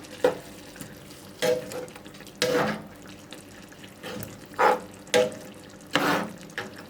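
Chicken roast being stirred in a pot after quarter teaspoon of fennel seeds is added, with intermittent scraping and sizzling bursts at an irregular rhythm, close and moderately loud, no talking.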